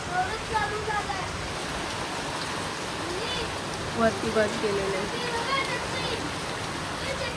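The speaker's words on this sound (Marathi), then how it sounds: "आमच्या इकडे पाऊस बघा किती जोरात चालू झाला आहे." Heavy rain pours in a dense, continuous roar, with people talking faintly beneath it.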